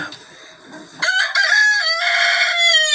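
A rooster crows loudly and close after a moment of softer clucking and rustling, its call long and strained.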